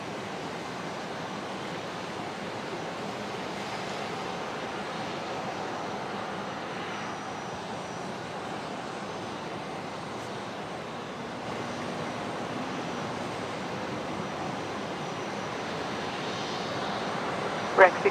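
QJet airliner taking off from runway 01 right at Brisbane Airport, a steady broadband jet engine roar heard from a distance that holds even throughout, with a faint voice in the background.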